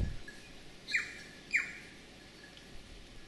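Bellbirds calling in native bush, two clear chirping notes spaced about half a second apart against a soft background hiss, with a fainter call near the end.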